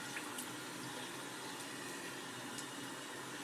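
Water runs steadily while soap is rinsed out of a brush, a soft, continuous splashing wash with no pauses, faint and close.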